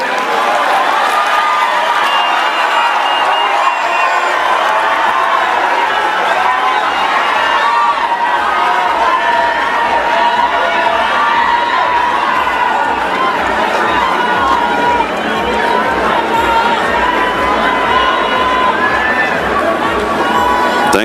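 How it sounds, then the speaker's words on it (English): Large conference crowd applauding and cheering for a former prime minister, a dense, loud, continuous wash of clapping and shouts that runs throughout, with voices mixed in. "Another round of applause, please, for the former Prime Minister, Right Honorable Raila Odinga."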